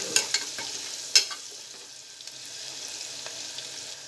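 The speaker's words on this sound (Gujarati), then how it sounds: "ડુંગળીને આપણે 1 મિનિટ સાંતળી લઈશું।" Onion sautéing in a pan while a peas and potato curry is being made, with soft sizzling under a few sharp clinks and scrapes of a spoon stirring against the pan.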